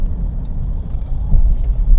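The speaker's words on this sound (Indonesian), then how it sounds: "Mobil lewat samping, cukup kedap lah" Inside a Honda CR-V 2.0 on a drizzly road, a passing car is heard only as a muffled low rumble through the cabin, the swell building slightly toward the end.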